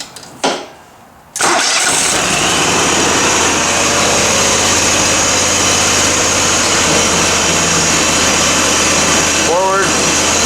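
A mower engine with a freshly repaired hydro pump cranks briefly, then catches and runs at a loud, steady idle close by, with a short rising whine near the end.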